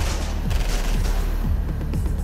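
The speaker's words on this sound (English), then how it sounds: "Automatic gunfire rakes Stanford's car," Automatic gunfire from a van rakes a car during a mob hit, with rapid bursts of shots repeating in an uneven rhythm over a constant noisy background and no talking.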